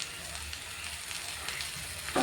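Chili fries in hot oil in a pan as potatoes cook for Maggi noodles. A steady, close sizzling hiss runs throughout, ending with a brief louder clatter.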